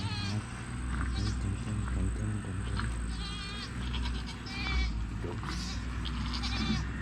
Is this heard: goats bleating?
yes